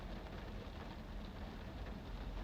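Rain falls steadily outdoors in an even, continuous hiss with no clear pauses. It sounds fairly faint and distant, with no voices.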